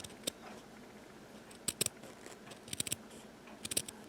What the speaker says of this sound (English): I'm going to slowly cut around the piece.